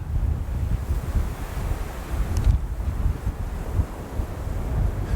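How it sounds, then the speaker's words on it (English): Strong mountain wind roars steadily across a high, exposed slope in Rocky Mountain National Park, buffeting the microphone with loud, continuous low rumbling and gusts that swell and ease without pause. "Wait for a break in the wind."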